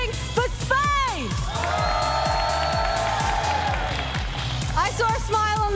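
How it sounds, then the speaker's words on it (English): An esports crowd at a FIFAe World Cup Rocket League quarter-final roars and cheers for Spain, a loud sustained swell of shouting and whooping, with an amplified host voice calling out before and after. "Who is cheering for Spain?"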